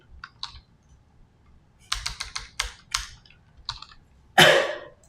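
Rapid typing on a computer keyboard, bursts of close, crisp key clicks ending in a louder clatter, with no talking.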